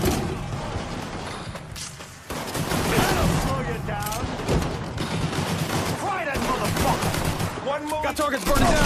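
Automatic gunfire and shooting in the Mafia 3 video game, with dense bursts running throughout under shouted voices and game soundtrack.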